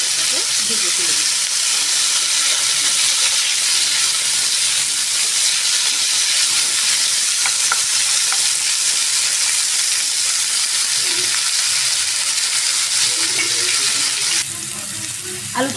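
Potato pieces rubbed with salt and turmeric fry in hot oil in a pan for a pointed gourd korma, giving a loud, continuous sizzle that runs almost to the end with no voices.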